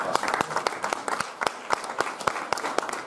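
An audience at a wine and sax music event in Puglia applauds, with sharp individual claps standing out above a busy, uneven patter of hands.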